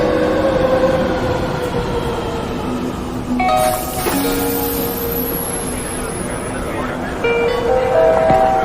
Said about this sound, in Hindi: चलो, मेट्रो आ गई है,